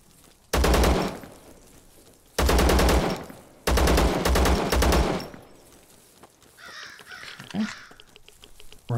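Video-game gunfire from ZERO Sievert: three loud bursts of rapid automatic shots, each lasting about a second, separated by short pauses, followed by quieter game ambience and a faint rising effect.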